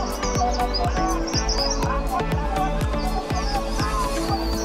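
Oriental magpie-robin (kacer) sings a fast, dense run of chirps and tweets with a steady pulsing beat of music close underneath, continuous and loud throughout.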